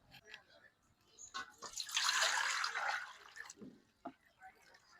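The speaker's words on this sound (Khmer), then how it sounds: "ជាដំបូងនឹងចាក់ទឹកលាងពងទាសិន" Water is poured over duck eggs to wash them, a steady splashing pour of a couple of seconds that rises and fades, close by, with faint drips before and after.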